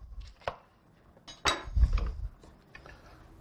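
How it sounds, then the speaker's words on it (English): A kitchen knife cuts a lemon in half on a cutting board, two sharp clacks of the blade meeting the board with a short soft slicing sound between, close and otherwise quiet. "So I'm going to take this now, cut my lemon in half."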